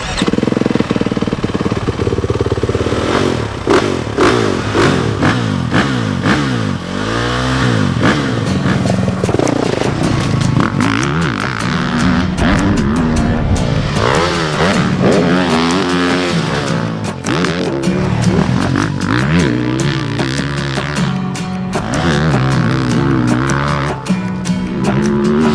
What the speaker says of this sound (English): we're excited to test this 450 here today